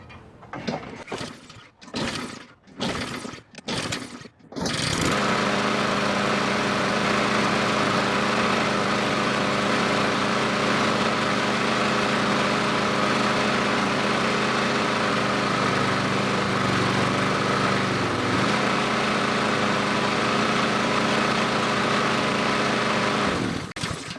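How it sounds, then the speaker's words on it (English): A Honda HRS216 lawn mower takes several sharp recoil pulls before its engine catches, then idles in a loud, steady drone with a slight dip in pitch partway through. "let's give her a couple pulls and see what happens"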